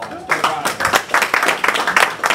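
An audience at a Rotary Club meeting applauds golf course architect Doug Ronick with a burst of clapping that starts abruptly and carries on steadily at close range.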